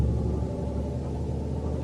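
An RV creeps slowly up a rocky, bumpy hill near zMax Dragway in Charlotte, North Carolina, giving off a low, steady engine rumble with faint jostling. The rumble is close and brief, and no one speaks.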